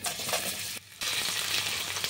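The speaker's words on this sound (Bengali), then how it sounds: "দুটো আলু ডুমো করে কেটে রেখেছি, সেটা দিয়ে দিচ্ছি" Two medium potatoes, diced, sizzle and fry in hot oil in a pan, a dense steady crackle with a brief dip partway through, close and alone with no voices.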